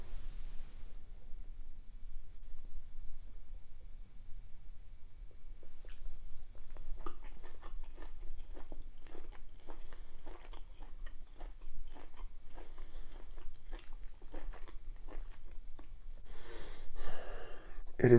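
Someone eating spicy beef bulgogi: after a quiet stretch, soft close bites and wet chewing come in irregular clicks, ending with a breathy exhale or gasp.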